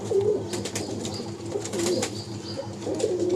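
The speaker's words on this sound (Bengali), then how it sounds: "এটা কালো লক্কার পেয়ারটা দেখাচ্ছি।" Black lakka pigeons coo softly and repeatedly at a busy pigeon market in Uluberia, with low rolling calls close by over a steady background of crowd bustle.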